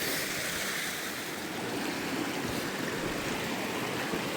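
Mountain stream at a water crossing above Outpost Camp on the Mt Whitney trail, after a snowstorm, rushing steadily and loudly up close as a constant broad roar of flowing water, with no voices.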